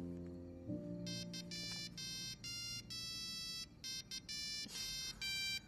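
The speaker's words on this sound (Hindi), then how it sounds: "मैंने स्पेशल रिंगटोन इंस्टॉल किया है तुम्हारे लिए।" A special ringtone plays on a new mobile phone: a low sustained tone, then a bright repeating electronic melody of short beeping phrases with brief gaps, loud and alone with no speech.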